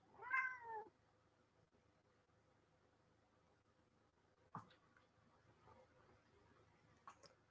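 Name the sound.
Siamese cat meowing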